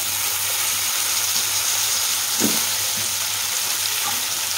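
Raw banana pieces fry in a pan with a steady, moderately loud hiss of oil and one short stirring scrape midway.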